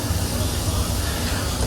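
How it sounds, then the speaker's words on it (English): Sausages sizzle in a hot frying pan, a dense, steady hiss with crackling underneath, close and fairly loud and continuous through the short stretch. "You got to have some sizzle going to get your sausage missile going."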